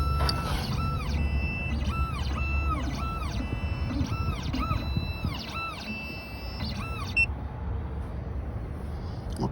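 A Dolphin XP-005 key cutting machine starting up, giving a rapid series of repeated electronic beeps and tones over a background hum that stop partway, then quieter mechanical noise.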